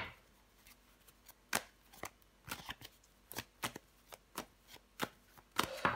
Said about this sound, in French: Ok, on va recouvrir des cartes.